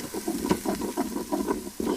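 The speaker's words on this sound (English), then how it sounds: "Let's add a little bit of garlic to it. Give it a little bit of stir." Beef browning with garlic in an Instant Pot, a spoon scraping and stirring in rhythmic strokes over a low sizzle.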